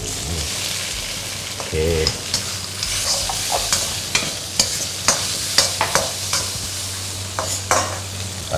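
Rice vermicelli with water mimosa being stir-fried in a pan: steady sizzling with repeated scraping and clinking of a utensil against the pan, close and fairly loud, with no voices.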